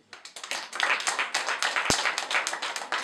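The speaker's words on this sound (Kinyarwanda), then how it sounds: "reka tuyikomere amashyi" A church gathering clapping for God, many hands beating in quick, uneven bursts that build into lively applause, close and bright, with one sharp knock partway through.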